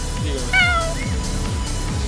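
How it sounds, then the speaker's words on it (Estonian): A stray cat meows at a cat shelter in the Roman ruins, one clear drawn-out call followed by a shorter one, close and loud over a steady rumbling background with faint voices. "sest et siin on lihtsalt hulkuvad kassid"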